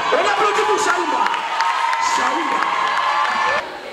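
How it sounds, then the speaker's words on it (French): Audience at a French-language debate cheering and whooping, a lively crowd roar with shouts and voices throughout before it drops off near the end. "On applaudit pour Chaoumba."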